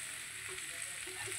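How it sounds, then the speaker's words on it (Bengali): A faint, steady sizzle of thin-cut potatoes frying in a pan, soft and even throughout the short moment, with no voices. "আলু ভাজাটা এই যে হয়ে গেছে"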